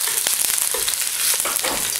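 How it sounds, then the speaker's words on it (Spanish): Onion hits a hot pot for a coastal-style beef broth, sizzling and crackling steadily up close with small stirring clicks over the frying hiss. "La cazuela ya se está calentando, vamos a agregar ya nuestra cebolla para que suelte el sabor un poquito aquí."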